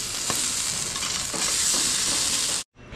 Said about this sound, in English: we're making us some hash browns and some eggs